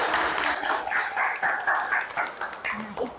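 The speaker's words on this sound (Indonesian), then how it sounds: "Beri tepuk tangan ya." A class of students clapping hands in a lesson, brief bursts of close clapping mixed with scattered voices in a classroom.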